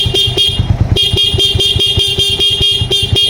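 Car horn honks in repeated short beeps over a running engine, loud and close, in a Filipino garage with a Barako 2 motorcycle nearby.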